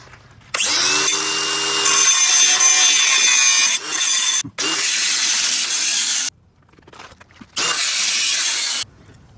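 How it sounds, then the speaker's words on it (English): Cordless angle grinder cutting through the rear exhaust muffler of a BMW 335i E92, loud harsh grinding in several bursts of a few seconds each, separated by short pauses and a spin-down whine. "have to cut it with the angle grinder"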